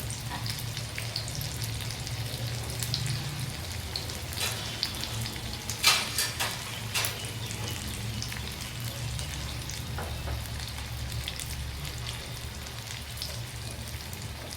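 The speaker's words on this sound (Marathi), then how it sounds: "छान लहानसर तळून घ्यायचं आहे" Mixed vegetable bhaji made from gram flour batter with tomato and capsicum slices frying in hot oil, a steady soft sizzle and crackle with a low hum beneath and a few brief clinks midway.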